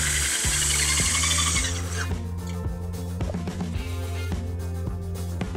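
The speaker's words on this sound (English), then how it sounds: "Now we want to secure our rail section to the clips by driving screws top and bottom, both sides." A power drill drives screws into a railing post as a glass railing section is fixed to its clips, giving a loud whir first and then a run of short, close mechanical bursts and clicks with no talking.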